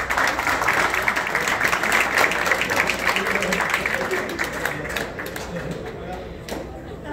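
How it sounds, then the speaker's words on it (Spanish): Applause for Inmar Guzmán at a literary talk in Houston, steady audience clapping that holds for several seconds before tapering off, with some voices mixed in underneath. "Un aplauso para Inmar Guzmán."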